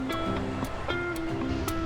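Surf washes steadily onto the shore at Ulee Lheu beach, with a continuous wash of water and a low droning motor tone running underneath throughout.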